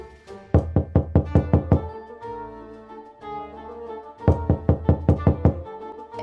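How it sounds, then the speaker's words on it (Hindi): Knocking on a door in a Hindi cartoon: two rapid bursts of about eight firm knocks each, separated by a pause with a faint tonal hum, loud and close. "तभी उसके दरवाजा पर आवाज आती है"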